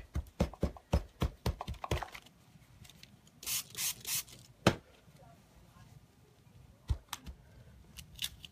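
Soft, close dabbing taps on a stencil repeat in a quick run, followed by a few short hissing sprays and occasional scattered taps.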